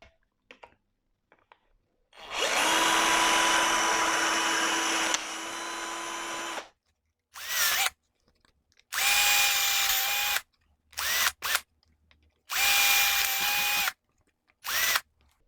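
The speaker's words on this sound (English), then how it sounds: "we need to do is to drill these holes and make them bigger, 5 millimeters" A power drill whirs loudly and closely, enlarging holes to 5 millimetres in a guitar cover, in several bursts, one long run followed by shorter spurts separated by quiet gaps, with rising and falling motor pitch.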